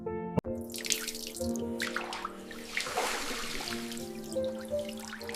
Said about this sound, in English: I wash my face with cold water.